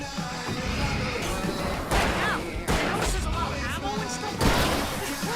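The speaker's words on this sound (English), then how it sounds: "I can set off more of the fireworks from here and help you out!" Fireworks burst in repeated heavy booming blasts during a fight in the video game Alan Wake, with shouted character dialogue layered over the explosions.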